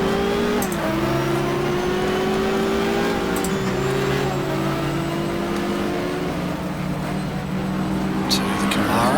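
A Bugatti race car in the GTR2 video game at the Daytona 24 Hour, its engine droning loud and close with shifting pitch. A commentator talks over the sound throughout.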